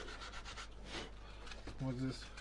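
Sandpaper rubs against a carved wooden board, rounding off carved parts with soft repeated scratchy strokes, close and quiet, with a faint tonal hum in the background.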